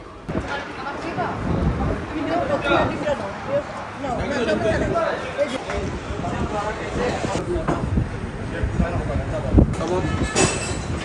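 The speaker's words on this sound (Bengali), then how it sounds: "দোনা এক্সপ্রেস ভৈরবের উদ্দেশ্যে চট্টগ্রাম থেকে ছেড়ে দিল" Dona Express night train pulls out of Chittagong railway station toward Bhairab at 11:30 pm, a steady rumble of rolling wagons under continuous noise and passenger chatter close by.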